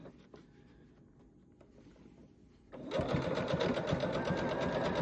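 A sewing machine runs fast and loud after a quieter stretch of handling, its rapid steady needle chatter stitching a coiled jelly roll fabric basket, close up with no voices.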